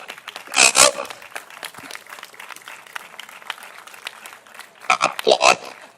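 Audience applause in a hall at a gadget design event, with a Dalek on stage; two short bursts of clapping near the start and end, with a voice talking over the steady rustle in between.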